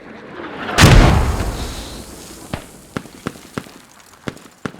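Mortar fire in the video game Squad: one heavy, close boom that rumbles away, followed by a string of sharper distant impacts or shots scattered at irregular intervals.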